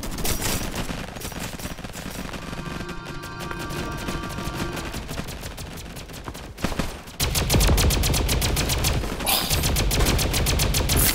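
Rapid automatic raygun fire in the Roblox game Flag Wars, a steady stream of loud repeated shots that briefly pauses and then resumes even harder and denser.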